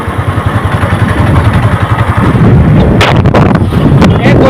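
Motorcycles rumble past on a riverside road by the Brahmaputra at dusk, a loud close engine drone with rapid pulsing, then rising wind buffeting and a surge as one passes nearby.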